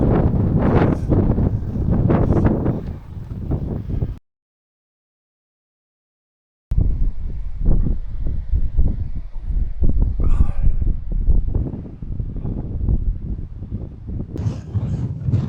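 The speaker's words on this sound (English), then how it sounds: "It's very windy." Strong wind on Beacon Hill along the South Downs Way buffets the microphone in heavy, roaring gusts, cutting out briefly before returning just as forcefully.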